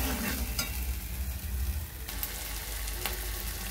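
Ginger and green chilli paste frying in a pan, a dense steady sizzle with soft stirring scrapes and a couple of light taps, close and continuous.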